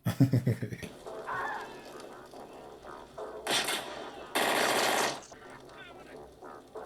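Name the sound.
gunfire in The Terminator movie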